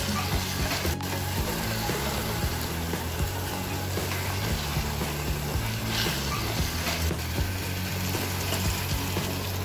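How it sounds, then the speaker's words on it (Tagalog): Sliced bird's eye chili being stirred into tuna and okra cooking in a pan, giving a steady, close sizzle with soft scraping that runs evenly throughout. "isunod sa paglagay ang hiniwang siling labuyo at haluin ng maigi"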